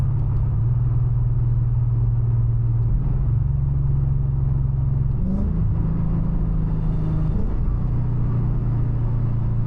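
A Lexus IS F engine with aftermarket headers and tune rumbles steadily from inside the cabin, its pitch dropping briefly at a couple of gear changes before climbing again as it pulls.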